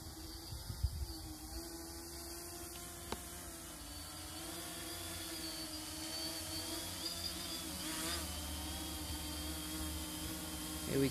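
A quadcopter drone hovers in altitude-hold mode in windy conditions, a steady mechanical whine with layered harmonic tones like small rotors close by, with faint wind noise underneath.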